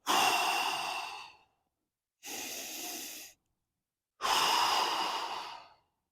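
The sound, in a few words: deep breath in through nose, hard exhale through mouth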